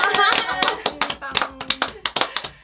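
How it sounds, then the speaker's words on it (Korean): A few people clap in a small indoor room, sharp irregular claps gathering and then thinning into separate slaps, with a voice heard briefly at the start. "박수!"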